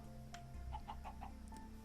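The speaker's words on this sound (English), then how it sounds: "There's a chicken. Be chill, chicken." Chicken clucking in the Minecraft video game: a few quiet, quick clucks in a short burst, faint under a low steady background hum.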